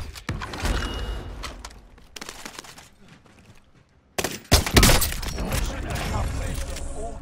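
Gunfire and sniper shots from Call of Duty Warzone, with scattered shots early and a sharp, loud report about midway followed by busier firing, while players talk over the action.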